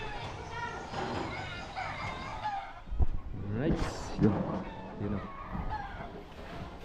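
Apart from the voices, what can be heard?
rooster crowing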